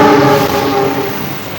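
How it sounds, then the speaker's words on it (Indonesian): A TC206 locomotive of the Sembrani train gives a sustained, tonal rumble with a horn-like ring, steady and close at first, then slowly easing off. "Lokomotif TC206 kereta api Sembrani."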